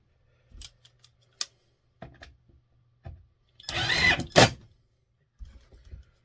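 Wooden fence pickets take screws for a ranch window box: scattered clicks and knocks, then one longer whirring burst of a driver sinking a screw, with a few softer taps after.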